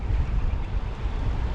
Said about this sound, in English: It's kind of a windy day today.